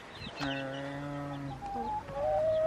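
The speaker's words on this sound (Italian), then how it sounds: "Questa era proprio la tipica gallina, il gallo istriano" Istrian chickens, a rooster and hen, clucking nearby outdoors with a sustained crow-like call followed by shorter, rising clucks against faint background noise.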